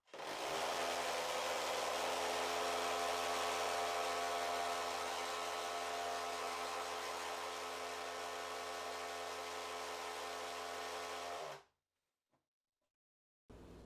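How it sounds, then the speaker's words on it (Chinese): A Bosch GSB12-2-Li drill in first gear drives a 6 mm round-shank bit into a heavy, hard brick, giving a loud, steady whirring grind for about eleven seconds before cutting off into silence. "第一个测试 GSB 1档模式下6毫米的圆柄钻头。"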